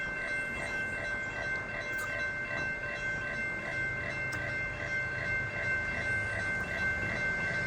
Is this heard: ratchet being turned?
no